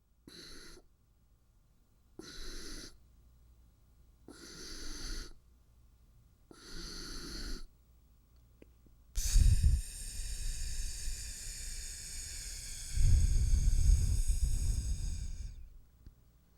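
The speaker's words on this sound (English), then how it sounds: "so that's Voloma breathing." Voloma breathwork done through the nose, four short breathy inhales separated by pauses, then one long, loud, hissing exhale with an audible throat constriction, close and without speech.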